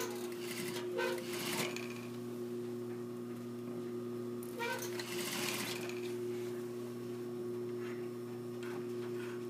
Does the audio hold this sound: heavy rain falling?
no